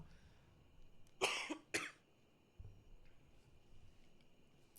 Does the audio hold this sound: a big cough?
yes